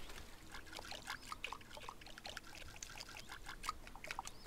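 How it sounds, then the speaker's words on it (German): Plants are watered in the video game Summer in Mara, with soft trickling pours in short, repeating bursts, faint and with no talk. "Ich soll das ja hier hinten gießen."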